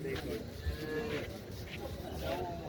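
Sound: buffalo mooing at a livestock market

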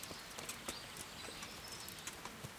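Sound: horse hooves clip-clopping in the video game Kingdom Come: Deliverance

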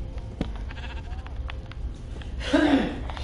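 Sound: sheep bleating in the video game Minecraft

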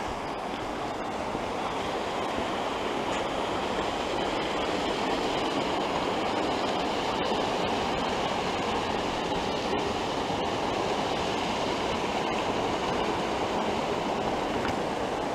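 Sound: mountain torrent rushing under a footbridge

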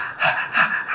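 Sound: deep breath in and out

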